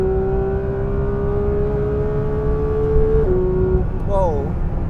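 Porsche 911 GT3 pulling hard at full throttle on a quarter-mile run, a loud, steady rising engine note held for several seconds with a brief dip and kick as it shifts gears near the end.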